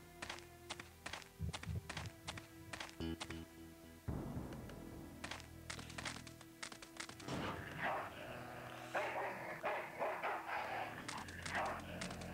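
A dog in the Full Throttle video game barks in sharp repeated bursts, interspersed with thuds and taps at moderate volume, with other game sounds filling the later part.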